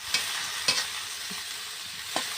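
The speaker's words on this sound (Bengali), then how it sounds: "এখন এর মধ্যে পেঁয়াজ আর রসুন কুচি দিয়ে দিলাম।" Chopped onion and garlic fry in oil for a lentil, aubergine and potato dish, an even hiss with a few distinct scraping stirs of the spatula.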